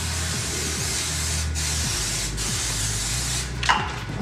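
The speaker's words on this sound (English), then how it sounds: "I'm going to hit it with a little bit of cooking spray" Cooking spray hissing from an aerosol can into a pan for party-size mac and cheese, a steady close spray lasting several seconds over a low background hum.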